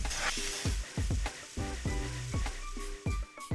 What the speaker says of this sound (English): Turn the portobello mushrooms.